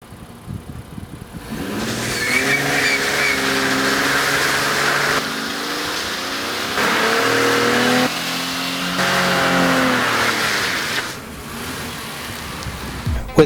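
A 2019 Infiniti Q50 with a Rev 9 axleback exhaust revs hard through a burnout, its engine rising and falling in repeated sustained pulls with tire roar underneath, loud and close.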